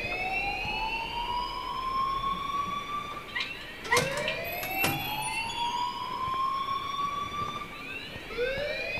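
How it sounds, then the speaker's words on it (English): Alarm ringing in the video game Life is Strange: a wailing siren rises and falls in repeated sweeping cycles, loud and continuous, with a few sharp clicks and thumps over it. "please turn off that alarm since that's your job."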